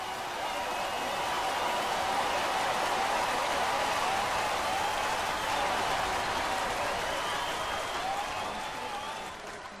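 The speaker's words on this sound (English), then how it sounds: "So can you all put your hands together for a round of applause for Jens?" A room full of people applauding, steady dense clapping that swells slightly and then begins to fade near the end.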